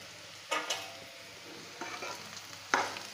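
Potato fry sizzles softly in a pan, broken by three clattering stirs of a spoon, close and fairly quiet with no speech.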